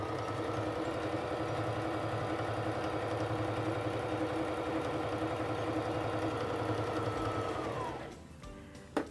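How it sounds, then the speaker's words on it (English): A SINGER Fashion Mate 3342 sewing machine stitches fabric with a steady, fast mechanical whir for about eight seconds, then winds down and stops with a faint click. "press on the foot control to start sewing"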